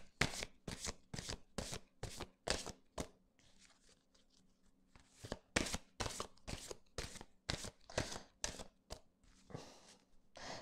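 Petit Lenormand oracle cards being shuffled up close in a rapid series of crisp riffling bursts, with a brief pause midway before the shuffling resumes; no voice is heard.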